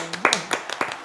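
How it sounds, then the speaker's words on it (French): A small group claps briefly for themselves, a few quick close hand claps with a short spoken bit mixed in. "Oui, on s'applaudit"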